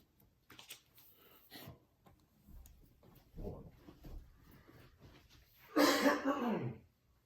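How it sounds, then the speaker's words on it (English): A few scattered coughs and throat clearings, faint at first, then one louder, harsher cough near the end, with no talking. "I've got a little bit of a cough"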